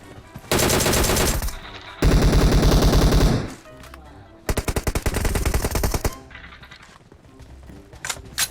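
Machine-gun fire in PUBG Mobile, with loud sustained automatic bursts broken by short pauses, then a quieter stretch and another long rapid burst, all close and dominant.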